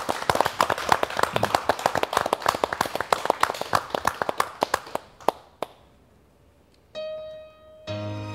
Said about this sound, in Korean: 우리 박수로 한번 하나님께 감사할까요?